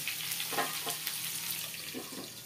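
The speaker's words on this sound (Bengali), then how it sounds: "এবার আমি একটু নাড়াচাড়া করে বেগুনটাকে ঢাকা দিয়ে রেখে দেবো" Eggplant frying in oil in a pan, stirred with a utensil: a soft steady sizzle with a few faint scraping stir strokes, quiet and close.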